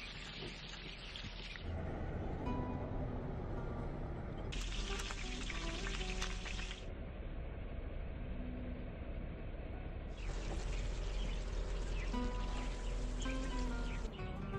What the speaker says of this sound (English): Season the pieces well as they fry